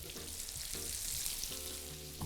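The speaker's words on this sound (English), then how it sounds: "The sizzle's my favorite part." A soft, steady sizzle of cheese frying in a pan, continuous crackling hiss heard close up with no voices.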